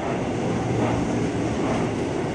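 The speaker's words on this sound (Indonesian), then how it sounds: "di jalur 3 masuk nih KRL Komuter Line tujuan Depok" A KRL Commuter Line train bound for Depok pulls into platform 3 at a transit station, a steady, loud rolling rumble filling the platform without pause.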